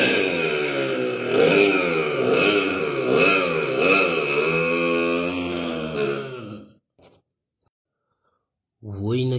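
A voice imitates a Bullet motorcycle engine by mouth, a sustained rumbling buzz with rhythmic revving pulses for about six seconds, then brief silence before the voice resumes.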